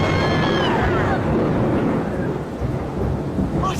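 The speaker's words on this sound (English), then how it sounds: "Followed by more thunder, even louder." Loud thunder from a storm sound effect in a dramatic audiobook scene, a heavy rolling rumble with crackling edges that stays strong throughout, with rain and a faint voice beneath it.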